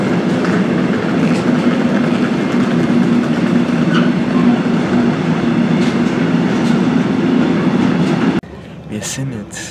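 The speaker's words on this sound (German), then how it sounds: "Wir sind jetzt im Zug und es ist kein gewöhnlicher Zug. Wir sind im ICE4." Inside an ICE 4 high-speed train underway, a loud, steady rolling rumble with low droning hum and track noise fills the cabin, then cuts abruptly to a quieter interior near the end.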